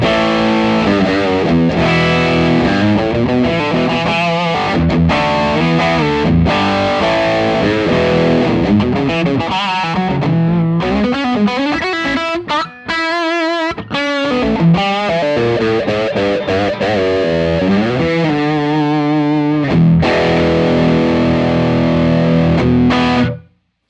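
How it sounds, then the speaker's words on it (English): An electric guitar plays through a soft clipping distortion circuit with the gain fully cranked, giving a thick, saturated sustained tone across continuous chords and notes, loud and alone with no talk. "the gain is cranked all the way up. It's just a soft clipping circuit."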